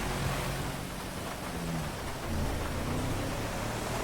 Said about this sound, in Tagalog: Galain, umuulan-ulan pa rito sa GTA 5 ah.